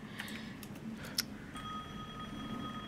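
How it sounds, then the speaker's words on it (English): A telephone rings in the Resident Evil video game, a faint, brief ring over a low steady game ambience, with no one talking. "And the phone's ringing."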